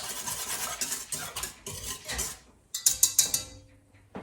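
Spoon stirring warm milk, sugar and yeast in a bowl for a cinnamon bun dough sponge, a run of quick scraping strokes and clinks that pause, then return as a few sharper knocks.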